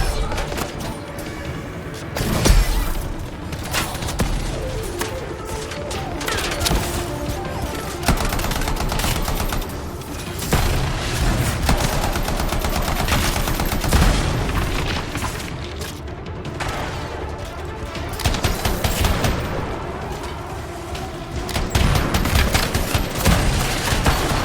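Sustained assault rifle gunfire in the video game Anthem, dense bursts and booming impacts running nearly continuously at high level throughout, with occasional heavier blasts and faint voices underneath.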